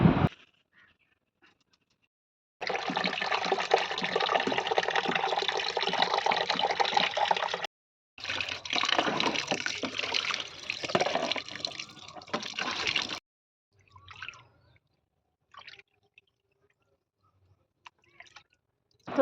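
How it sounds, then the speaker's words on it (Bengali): Meat being washed by hand in hot water in a bowl, a steady splashing, sloshing wash in two long bursts with a brief pause between, followed by quiet and a few faint clinks. "মাংসগুলো গরম জলের মধ্যে ধুয়ে নেব"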